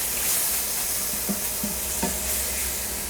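Garlic stirred into shrimp sizzling in a frying pan, with a steady broadband frying hiss throughout and a few soft scraping stirs of the utensil midway.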